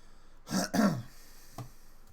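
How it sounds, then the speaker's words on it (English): Someone clears their throat twice in quick succession, close by, followed by a softer little throat sound. "If I'm clearing my throat a lot on this broadcast"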